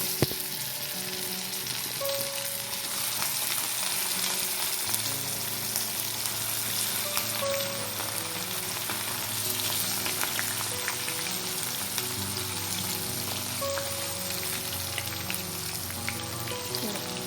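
Ayala mackerel fish fry in hot oil on a simmering stove, giving a continuous, close crackling sizzle that stays steady throughout, with no voices.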